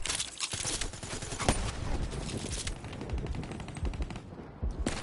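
Razorback automatic gunfire in a multiplayer shooter game, rapid sustained bursts of shots that are loud and continuous throughout, with no voices.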